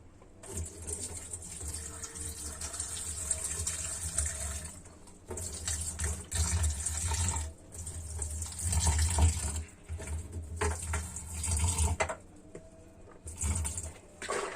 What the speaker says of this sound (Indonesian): Dan kulit ari kita buang bersama air.